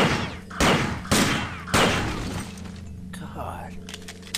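Weapon fire in System Shock 2, with three or four loud, sharp bursts in the first two seconds that crack out over steady background hum. A voice talks over the shots and the sound settles afterward.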